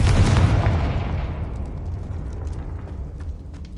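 Spell explosions in Hogwarts Legacy, a heavy booming blast with a broad roar that slowly decays into rumbling debris over several seconds, loud and close, with no voices.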